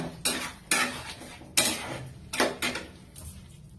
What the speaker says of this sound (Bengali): এটাকে দিয়ে একটু নেড়ে চেড়ে নিতে হবে